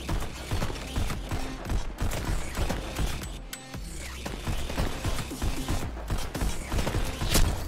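Gunfire in the VR rhythm shooter Pistol Whip, a dense run of rapid, loud shots with brief mechanical clicks and a short gap partway through.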